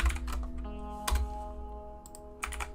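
Keys clatter on a computer keyboard while a mod for Hotline Miami is edited, steady close typing with a couple of heavier keystrokes and a faint background hum.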